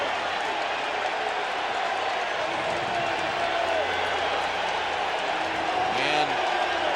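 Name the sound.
baseball stadium crowd cheering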